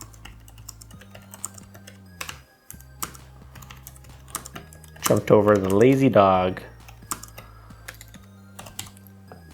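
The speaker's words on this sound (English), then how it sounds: "the typing feel is pretty good. It's pretty good just for a membrane kind of basic keyboard" Fingers type on a Logitech K780 wireless membrane keyboard in quick, soft, clustered key clicks over a low steady hum, with a short stretch of someone talking partway through.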